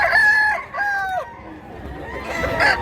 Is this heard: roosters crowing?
yes